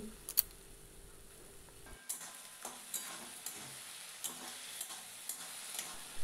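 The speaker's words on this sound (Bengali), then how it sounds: "মশলাটা আমি এখন ভালোভাবে কষিয়ে নিচ্ছি" Ground spice paste fries in a pan after chopped onions, with a soft sizzle and a run of sharp, regular stirring clicks from a spoon against the pan, fairly close and moderately loud.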